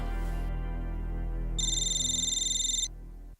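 A telephone ringing tone plays through a speaker, a single bright electronic ring burst over a low steady hum, close and clear.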